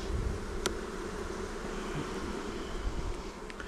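A nervous honeybee colony buzzes inside its hive during an early-spring inspection, a steady, close, dense drone with a couple of faint clicks and no talking.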